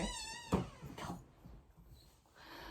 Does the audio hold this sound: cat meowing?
yes